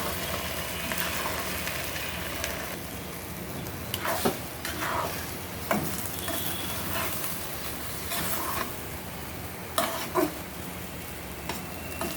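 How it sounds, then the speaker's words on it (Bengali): Greens (shak), seasoned with salt, are stirred while frying in a pan, giving a steady close sizzle broken by repeated scraping and stirring bursts, with no voices. "শাকটা সুন্দর করে নেড়ে চেড়ে দিলাম"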